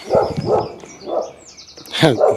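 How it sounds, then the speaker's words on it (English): A dog barks near a cherry tree in spring, several loud close barks in a broken rhythm with a short gap in the middle. "Dog doesn't like me talking."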